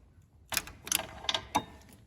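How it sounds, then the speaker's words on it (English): Ratchet driving a 12 mm socket on a universal joint, working on the frame rail of a Kubota BX2380 tractor during a PTO repair; a few short clicking bursts, close and fairly quiet, with no talk. "this is a 12 millimeter socket. I'm gonna use a universal here"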